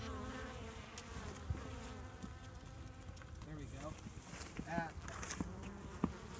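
Bees buzz around a beehive in early January, a soft continuous droning hum with individual insects whining closer now and then, while people talk quietly nearby.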